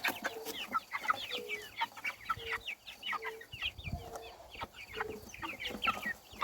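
A flock of chickens and young chicks clucks and peeps in a backyard, with repeated short calls and chirps overlapping at moderate distance, fairly quiet and continuous, with a rooster among them.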